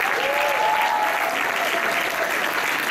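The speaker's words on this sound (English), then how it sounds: "And again, a round of applause for everyone," Sustained audience applause for participants and judges at a youth forum, dense steady clapping from a large crowd filling the room, with a faint voice briefly audible over it.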